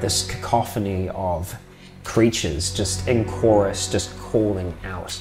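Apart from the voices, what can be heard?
No distinct noise like a dog, phone or traffic.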